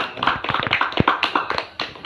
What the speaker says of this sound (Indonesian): beri tepuk tangan kepada kelompok Umar